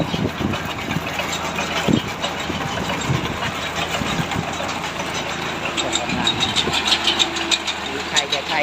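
A small Honda engine powering a rice harvester head idles steadily with a continuous mid-range rumble and faint clattering, with someone talking over it throughout.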